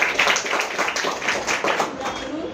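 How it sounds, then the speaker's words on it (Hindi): An audience claps at a sales presentation, a burst of fairly loud, close hand claps with uneven rhythm that fade slightly toward the end, with a voice faintly present underneath. "एक बार जोरदार तालियां"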